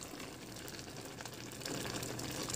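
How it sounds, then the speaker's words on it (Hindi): Green leaf and potato soup, a traditional Mog chuse, boils in a pot while being stirred. A steady bubbling, sizzling texture runs throughout and grows slightly louder partway through. "देखिए उबाल आ चुका है, हिलाएंगे"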